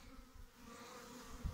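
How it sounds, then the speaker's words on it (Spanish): Honey bees buzz among almond trees in bloom on a warm February day in a Mediterranean apiary, a steady close insect hum with no voices. "abejas iniciando"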